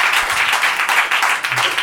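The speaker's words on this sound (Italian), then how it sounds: "facciamoglielo un applauso, così si sente che è un impegno" Studio audience on an Italian talk show applauds, a close, steady burst of clapping that fills the short moment from start to finish.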